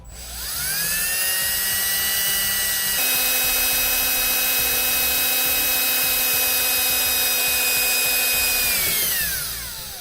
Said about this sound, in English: Now I'll take a 5/16 drill bit. I'm going to drill through the dash.